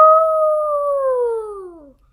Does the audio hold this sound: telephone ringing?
no